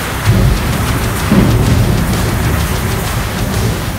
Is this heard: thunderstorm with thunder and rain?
yes